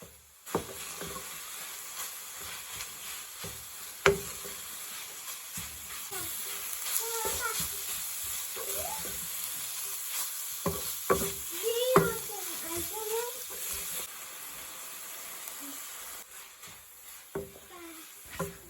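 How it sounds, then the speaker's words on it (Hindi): Minced meat fries with red chilli, crushed chilli, coriander and cumin powder in a pan, a soft steady sizzle with occasional stirring scrapes, quiet and close, while someone talks and a voice is heard. "फिर मैंने इनको दोबारा से अच्छी तरह से भून लिया"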